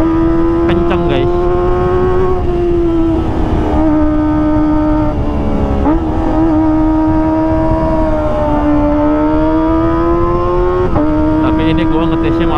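Exhaust of a Kawasaki ZX25R fitted with an Arrow Pro Race silencer, tested at night: a loud, steady, high-pitched inline-four drone held close throughout, with a few brief rev swells and dips and no voices.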